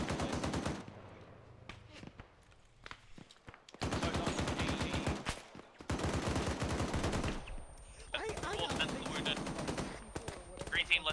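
Bursts of automatic gunfire in Arma 3 rattle in long, dense volleys separated by brief lulls, loud and close, with voices talking over parts of the fighting.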